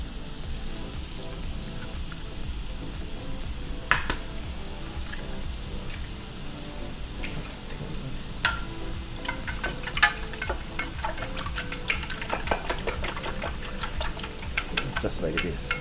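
Onions fry in a pan with a continuous crackling sizzle and scattered sharp pops and clicks, while low voices come and go.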